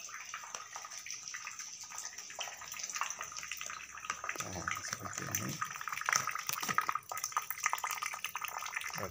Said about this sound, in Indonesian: Tapi bisa kita tambahkan dengan mungkin tetesan air mengalir.